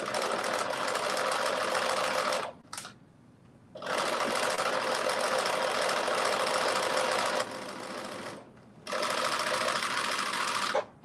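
A domestic sewing machine runs single-stitch sleeve seams on a drop-shoulder long-sleeve top, with three steady bursts of stitching broken by short pauses and no talk.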